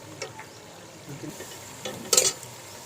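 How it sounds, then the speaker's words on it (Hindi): Chicken being stirred with yogurt in a cooking pot, with soft scraping and stirring noises, faint sizzling, and one brief louder clink of a spoon against the pot. "सारे ठीक अच्छी तरह चिकन को हिलाते रहेंगे इस तरह।"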